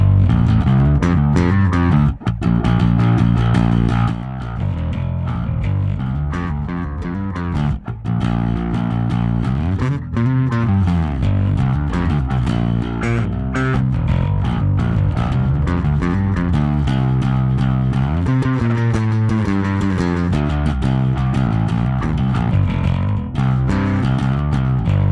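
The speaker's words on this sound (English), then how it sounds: "it just makes you want to dig into the instrument a little bit more because it's such a great distortion tone." A Music Man BFR DarkRay bass, the limited Ernie Ball "Grapes of Wrath" edition, played through heavy distortion, with thick, gritty sustained notes and riffs that run loud and unbroken for the whole stretch.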